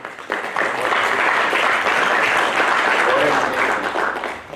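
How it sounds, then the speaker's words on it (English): A business panel audience applauds the volunteer team, clapping swelling in after a brief pause into a full, steady round before tapering off near the end. "big round of applause to the voluntary team"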